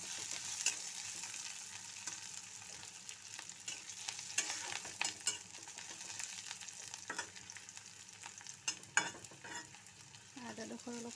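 Ginger, garlic and chili fry together in a pan with a steady, soft sizzle, broken by occasional scraping spatula stirs; no voices.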